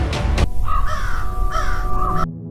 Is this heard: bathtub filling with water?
no